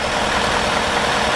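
A 2020 Ford F-150 pickup with the 5.0 V8 engine idling, heard as a steady, even rumble with an airy hiss, close and constant and without speech.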